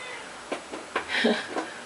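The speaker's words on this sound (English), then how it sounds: "I can get the cat out from my feet because she's being" A domestic house cat meows indoors in a kitchen while soup is being prepared, a few short close cries and one longer mew mixed with background voices.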